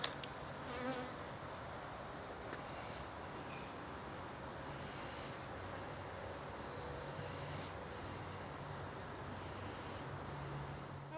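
Honeybees swarm around an open beehive during a frame inspection at a university beeyard, a dense, continuous buzzing hum close to the listener with no talking.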